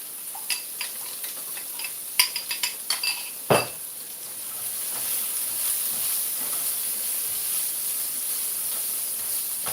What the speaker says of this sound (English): So I'm stirring it up.